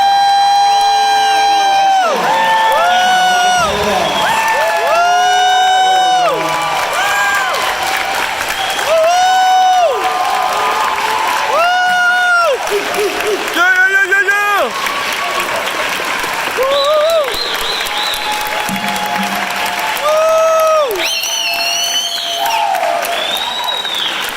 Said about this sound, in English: Ladies and gentlemen, please join me in giving these graduates a round of applause.